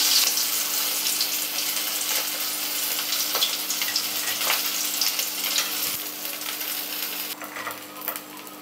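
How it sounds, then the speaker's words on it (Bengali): Oil left over from frying fish sizzles and crackles steadily in a pan as two bay leaves and whole cumin fry, a soft continuous hiss with no voices. "সেই তেলের মধ্যে আমি 2টো তেজপাতা দিয়ে দিলাম আর হাফ চা চামচ পরিমাণ গোটা জিরে দিয়ে দিলাম"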